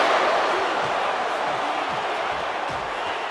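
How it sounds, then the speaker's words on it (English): Capacity crowd roaring in the WWE 2K25 wrestling video game during a Stone Cold Austin versus Rikishi match, a dense steady wash of arena noise with commentary speaking over it. "do you hear this capacity crowd?"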